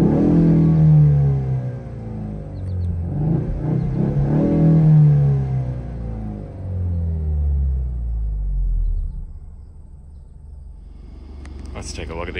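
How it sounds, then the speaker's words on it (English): Engine of a 2024 Ford Mustang Fastback rental car revved from idle, a deep rumbling rise and fall repeated a couple of times, loud and close, easing back toward idle near the end. "Let's give it a couple of revs"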